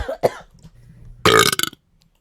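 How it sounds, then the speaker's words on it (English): A loud, close burp opens the stretch, and a second long, rasping belch follows after a short quiet gap with faint murmuring, then silence. "I hate that burp introduction"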